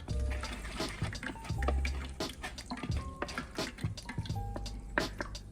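A metal sieve being shaken to strain garlic, ginger and lemongrass liquid, producing a run of quick rattles, taps and wet drips, busy and close, with no talking.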